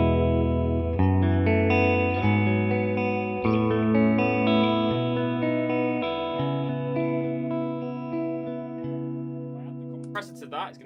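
A bass guitar through a 2-Rock Bloomfield Drive pedal and Flamma FS02 reverb plays a slow run of sustained notes, thick and gritty with a reverb wash trailing after each one.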